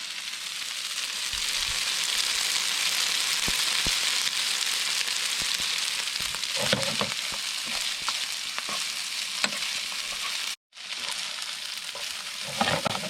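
Pasta sizzles and fries in a hot pan outdoors by a river on a 36-degree day, a loud continuous sizzle with stirring scrapes and tossing clatters, one brief silent gap near the end.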